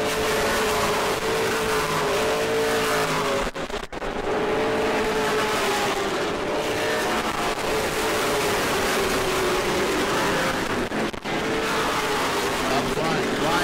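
Pro late model race cars at New Smyrna, a big pack of fast and slower cars diving into turn 1, their engines a loud continuous roar that holds steady throughout with only brief dips.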